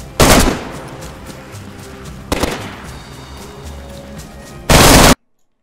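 Gunfire in the survival game DayZ: three loud, sharp bursts of shots, one near the start, one in the middle and one just before the end, separated by quieter game ambience.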